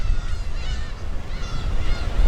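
Black-tailed gulls call in a seabird colony on Dokdo island, giving loud, repeated nasal honking cries that overlap in a noisy chorus with a rumbling background.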